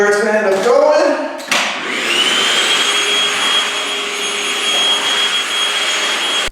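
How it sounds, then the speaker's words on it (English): A Milwaukee vacuum cleaner starts up after a brief voice and runs steadily at a loud, high-pitched whine and roar, close by and continuous, in a home gym under construction. "Do a little vacuuming where it's gonna end up going."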